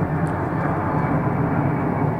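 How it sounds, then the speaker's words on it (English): An airplane passes overhead above a garden on a hot May day, a steady broadband engine roar that stays continuous and moderately loud throughout. "Another plane going over."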